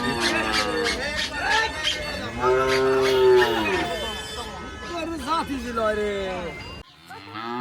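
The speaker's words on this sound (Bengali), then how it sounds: "গরু চলে আসছে আলহামদুলিল্লাহ" Cattle being unloaded at a new village farm moo repeatedly and loudly up close, overlapping bellows of varied pitch with people talking nearby.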